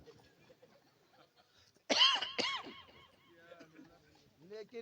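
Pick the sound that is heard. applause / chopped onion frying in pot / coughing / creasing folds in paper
coughing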